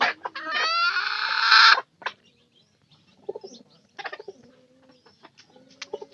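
A hen gives a loud, close cackling squawk, then soft scattered clucks and short calls follow among quiet pauses.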